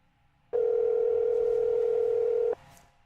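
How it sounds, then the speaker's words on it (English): A phone line on an outgoing call gives one steady ringback tone lasting about two seconds, loud and clear, then cuts off into quiet line noise. "Sean, you better answer this"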